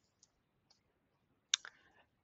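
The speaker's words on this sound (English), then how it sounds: "let me go ahead and click on Save and Run" Mouse clicking at a computer, two faint isolated taps followed by a sharper, louder double click, close and otherwise quiet.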